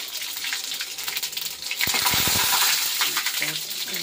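Five-spice seeds (panch phoron) dropped into hot oil in a wok with bay leaf already in, giving a burst of crackling sizzle with sharp spattering pops midway, continuing as a steady fry.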